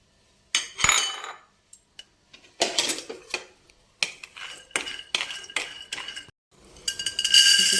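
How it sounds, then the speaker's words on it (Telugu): Almonds being roasted in a pan, heard as intermittent clattering and rattling bursts as the nuts are stirred and tossed against the metal, with short pauses in between and no talking. "ముందుగా బాదం పప్పులు వేయించుకుందాం."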